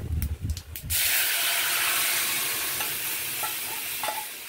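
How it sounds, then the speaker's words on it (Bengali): Boiled dal poured into a hot pan of spiced tempering for khichuri, a few clattering knocks followed by a loud, sustained sizzle and hiss that slowly settles as it is stirred. "এবারে যে আমার সেদ্ধ হওয়া ডালটা, সেই ডালটা এবারে দিতে হবে।"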